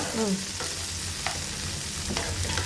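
Garlic, onion and masala frying in a pan for mushroom pulao in a home kitchen, steady sizzle with occasional stirring scrapes, close and moderately loud, without speech.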